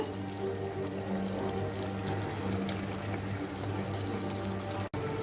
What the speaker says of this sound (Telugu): హాట్ వాటర్ యాడ్ చేస్తున్నాను